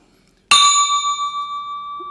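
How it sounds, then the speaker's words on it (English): A metal bell struck once from outside with a wooden rod gives a sharp clang followed by a long, steady ringing tone that slowly fades, with no talk. "When I take a wooden rod and just bang it on this bell, you can hear a very typical sound."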